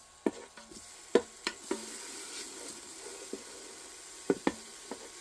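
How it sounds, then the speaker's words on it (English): Food sizzles softly in a Ninja Foodi pot while a utensil stirs it, with faint frying hiss under scattered clinks and scrapes. "I think you can hear that sizzle."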